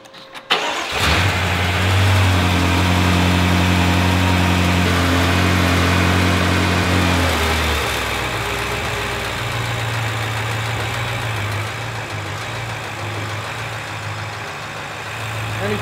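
Rebuilt 1000-horsepower BMW M5 engine with a prior rod-knock fault cranking, catching and settling into a loud, steady close idle that holds a low hum with slight roughness throughout.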